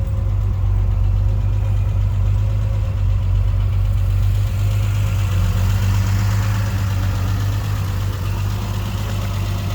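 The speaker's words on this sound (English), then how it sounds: "I'm sitting at around 900 RPMs right now at idle" A 1976 Triumph TR6 with SU carburetors idles at around 900 RPM, a steady close low engine rumble with an even pulsing beat and no voices over it.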